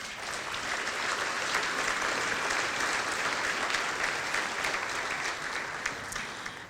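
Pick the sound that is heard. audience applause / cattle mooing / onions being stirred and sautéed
audience applause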